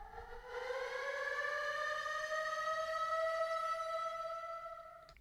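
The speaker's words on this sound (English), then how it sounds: "Then we have this horn sample, like a siren." A rising, wailing siren-like horn sample in a music production swells up and holds steady, loud and sustained for several seconds before cutting off.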